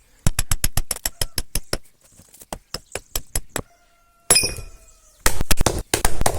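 An axe striking a wooden trunk gives sharp, close, evenly spaced knocks in quick runs with short pauses, followed by a denser burst of splintering impacts.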